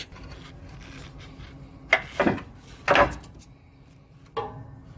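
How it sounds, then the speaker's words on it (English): A worn sway bar bushing is worked off its mount on a Nissan Sentra, giving a few short scraping clunks and rubbing knocks spaced over several seconds, close by with no talk. "Now I'm going to slide the mount and remove the bushing."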